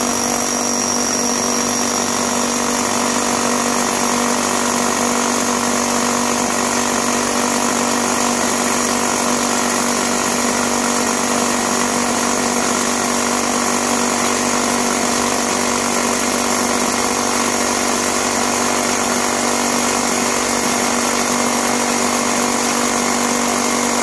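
Bosch GBH 18V-34 CF cordless rotary hammer drill set to concrete mode, a steady loud whine with a constant hum running unbroken from start to finish, no voices.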